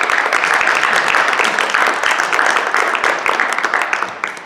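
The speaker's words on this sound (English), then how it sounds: "Please give them a round of applause as well." Audience applause at a Green Canyon NHS ceremony, a dense, steady wash of many hands clapping that holds for several seconds and thins slightly toward the end.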